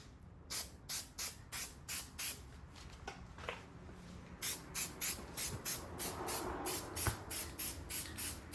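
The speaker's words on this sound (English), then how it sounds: "I just spray over it, so you'll see that." An aerosol can spraying white Plasti Dip onto a car wheel in short, regular hissing bursts, about twenty quick sprays with a brief pause partway through, close and crisp.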